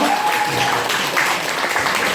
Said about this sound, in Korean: 우리 잘생긴 만큼 박수 한 번만 부탁드려볼까요?